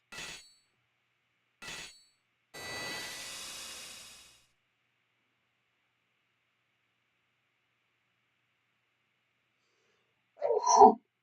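A sneeze from an elderly smith character in Final Fantasy Pixel Remaster while he forges an adamantite sword, heard as short crisp bursts followed by a longer airy hiss, then a brief voiced grunt after a long silence.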